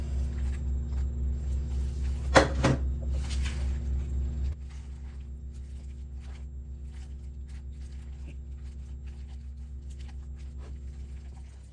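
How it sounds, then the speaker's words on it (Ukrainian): A low mechanical hum and rumble from a washing machine runs throughout, louder at first then settling quieter, with brief scraping and clatter near the start. "У мене працює пральна машина, тому шумить"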